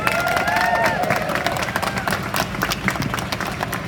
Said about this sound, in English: Big round of applause to Nina,